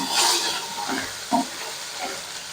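Ginger paste fries in hot oil in a pan for a cauliflower curry, giving a soft, steady sizzle with a few dull scraping knocks as it is stirred.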